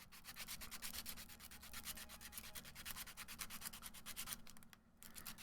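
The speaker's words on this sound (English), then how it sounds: "the sandpaper actually does a pretty good job of keeping this whole thing in place and getting rid of all the stupid paint" Sandpaper rubbed rapidly back and forth against a painted Warhammer 40K Tau Empire miniature, a dense, fast, even scratching rhythm held close throughout, easing briefly near the end.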